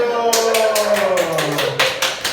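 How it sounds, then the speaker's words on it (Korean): Students in a classroom burst into brief applause, a quick patter of claps lasting a couple of seconds close to the microphone. "박수!"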